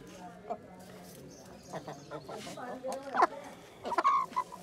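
A hen clucks in short, irregular bursts close by, with a person talking over it and other bird noises around.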